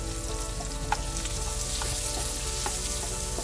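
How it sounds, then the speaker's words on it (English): Potatoes slow-fry in oil for chicken pulav, a steady close crackling sizzle with scattered tiny pops and no voices. "Slow fry your potatoes till it's fully cooked and it has a nice brown crust."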